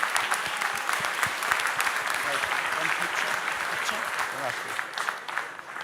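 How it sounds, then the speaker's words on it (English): A large expo stage audience applauds in a loud, sustained burst of clapping that fades slightly toward the end, with a few faint voices mixed in. "Please give our new partners a huge round of applause."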